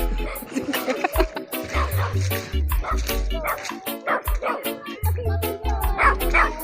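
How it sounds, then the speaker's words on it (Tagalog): Dogs yip and bark in short bursts, several overlapping at moderate distance, with some whimpering between calls, near Wawa Dam in Montalban, Rizal. "May mga aso!"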